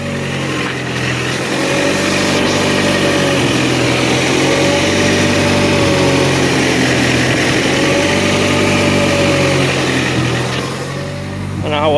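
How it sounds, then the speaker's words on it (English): A Kia Soul engine runs at a steady idle with a faint low knock, suspected to come from a slightly loose rod or an oil pump with a bad bearing; the drone is loud and continuous throughout. "it sounds like a slightly loose rod or an oil pump that is has a bad bearing in it"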